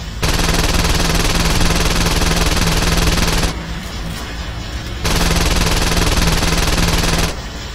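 Automatic gunfire from a gun in the video game Saints Row 2 fires in two long, loud sustained bursts separated by a short pause.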